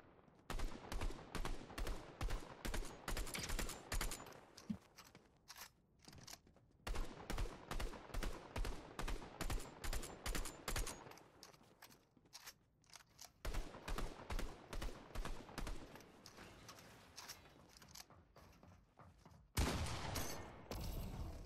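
Rapid bursts of automatic gunfire from a weapon fired from the hip in Fortnite, repeated in long strings broken by brief pauses, loud and close throughout.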